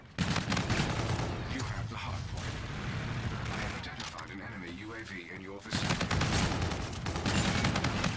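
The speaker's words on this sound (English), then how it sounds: "It's because you were using a submachine gun, Seth." Rapid automatic gunfire in a video game battle, dense overlapping bursts with heavy impacts that ease briefly in the middle before surging again, while voices talk over it.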